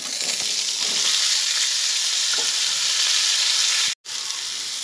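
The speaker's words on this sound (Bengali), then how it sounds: "এই যে 5 ফোড়ন দিয়ে দিয়েছি সাদা তেলের ওপরে" Panch phoron five-spice seeds sizzling in hot white oil, a steady loud frying hiss that runs unbroken and drops out for an instant near the end, with no voices over it.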